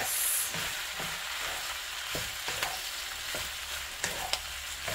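Garlic, oil and onions fry in a pan as a spoon stirs them, giving a continuous sizzle broken by regular scraping strokes and a few sharper knocks near the end, with no talking.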